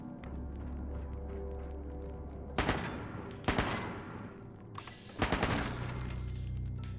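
Gunfire in the video game Fallout 76: a steady rattle of rapid shots runs throughout, punctuated by several louder, sharper bursts and blasts, with no talking.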